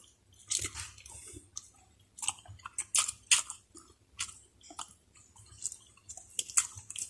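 Close, moist chewing and crunchy bites of a hotdog breakfast come in irregular bursts, loud against a quiet background with no talk.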